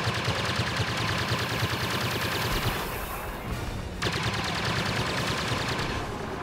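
Continuous blaster fire and explosions in the Star Wars Battlefront video game, a dense loud barrage of rapid shots with a brief lull midway before the firing resumes.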